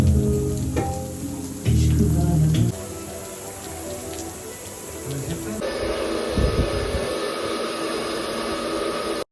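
Artificial rain shower at a resort rain dance in Udupi, a steady hissing spray of falling water that runs throughout, briefly louder early on, with voices faintly mixed in.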